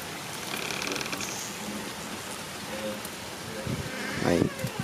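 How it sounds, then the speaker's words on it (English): Heavy rain falls outdoors as a steady broadband hiss, with some faint insect-like buzzing and a brief louder splashing burst near the end; a person speaks briefly in the background. "I don't know if y'all can see, but it's raining, bro."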